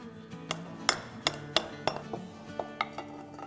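Spice mix for chaat masala being emptied into a container, giving a run of sharp clinks of a metal spoon or utensil against the vessel, about a dozen taps at an uneven pace, close and fairly quiet, with no voices.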